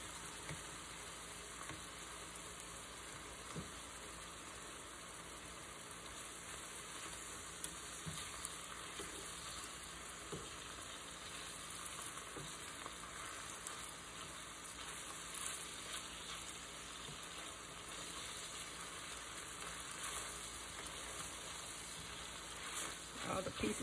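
Pieces fry in a pan with a soft, continuous sizzle, quiet and even, broken by occasional light scrapes and clicks of a spatula turning them over.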